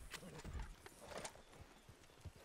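A horse in the video game Red Dead Online, its hooves clip-clopping in short bursts with a brief whinny, set against game ambience and some faint voice chatter.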